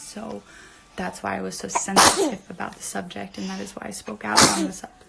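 A sharp sneeze bursts out once amid someone talking, with another sudden loud burst near the end, both close and prominent against the speech.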